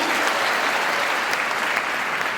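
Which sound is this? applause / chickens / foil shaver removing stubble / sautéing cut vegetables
applause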